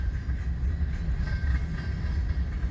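An eastbound double-stack freight train approaches in Fremont, Nebraska, heard as a short, fairly faint low rumble with light wheel clatter, steady throughout and without talk.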